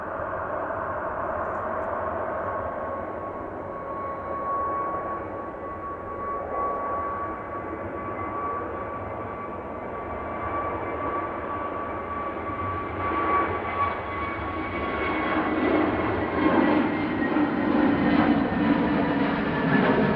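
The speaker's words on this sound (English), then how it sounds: "Next taking off then is an EasyJet Airbus A320neo that's going to Sharm el Sheikh." An EasyJet Airbus A320neo takes off, its jet engines building from a steady distant roar with a whining tone into a louder, nearer rumble toward the end.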